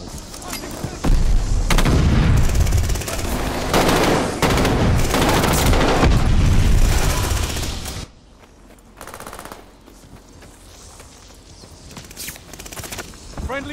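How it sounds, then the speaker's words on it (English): Friendly mortar fire in Call of Duty Vanguard during a hardpoint match: dense, loud rattling gunfire and booming blasts for about eight seconds, then a quieter stretch with distant scattered shots. "Friendly mortar fire"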